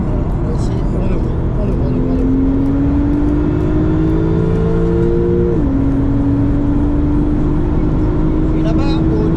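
A Porsche or KTM X-Bow sports car on a race track at a trackday accelerates with the throttle open. A loud, close in-cabin engine drone climbs steadily, dips briefly at a gear change, then resumes, with people talking over it.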